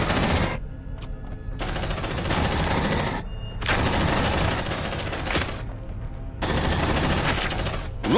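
Marines firing sustained bursts in the sci-fi game Aliens Dark Descent, loud dense automatic gunfire in long volleys broken by brief pauses, with no talk over it.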